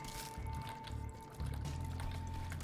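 Bubbling water effects in the video game The Binding of Isaac Afterbirth+, a steady liquid gurgle under a low game drone and a sustained tone, growing fuller partway through, with no talk.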